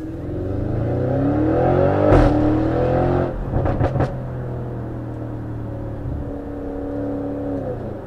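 A 730 bhp Audi RS6 revs under throttle, its engine note climbing and rumbling loudly close by, with a few sharp bursts of revving in the middle and a steady drone after.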